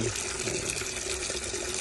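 Water is poured into SNAP A nutrient solution at a school garden, a steady close splashing and gurgling stream that runs without a break.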